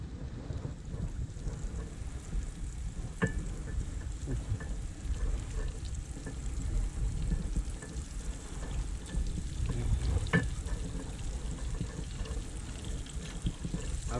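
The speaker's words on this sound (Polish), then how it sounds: "No i zaczynamy smażenie." Continuous crackling sizzle of fish frying in oil, steady throughout, with occasional pops and a low rumbling wind in the background.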